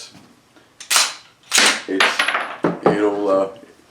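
Several sharp, loud pops in a row from 9mm ammunition primers, crisp percussive cracks with a metallic ring, spaced irregularly over a few seconds.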